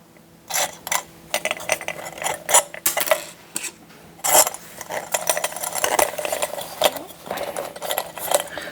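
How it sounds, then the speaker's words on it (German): Small metal springs clink and rattle as they are fitted onto a Puch 500 headlight (pre-1968 model) during assembly, with a quick series of close, sharp metallic taps and scrapes, with no talking. "Dann gebe ich die Federn rauf."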